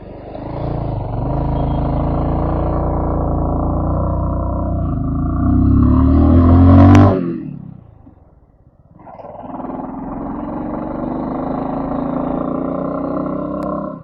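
A car engine runs loud and steady, rises in pitch, then drops away almost to silence as the gear is shifted through neutral before the engine sound returns and pulls again, with no voices.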